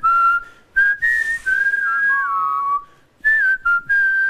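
A solo whistler carries a melody on a game-show guessing round, clear, close and loud phrases with short breaths between them and no talk.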